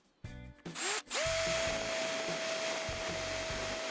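A power drill cuts through the spot welds on a NiCd battery pack, starting with a few short bursts and then holding a steady, loud, whining run with a grinding bite as the bit chews through.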